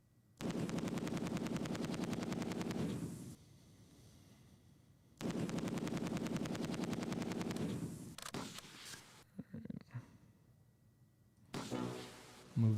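Machine gun fire in the Close Combat 2 war game at Arnhem: two long loud sustained bursts of rapid automatic fire, separated by a pause, followed by a few scattered shots and a shorter final burst.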